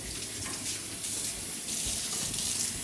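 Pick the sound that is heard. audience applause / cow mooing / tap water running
tap water running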